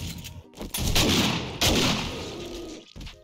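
Shotgun blasts in the survival game 7 Days to Die, a few loud booming shots spaced apart, each with a rough decaying tail, over game ambience.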